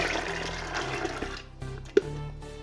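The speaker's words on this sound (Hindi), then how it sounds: "हम कुकर में डालेंगे ये चने पानी समेत।" Water and chickpeas pour into a pressure cooker with a continuous splashing gush that thins out partway, ending in a small clunk, with no talking.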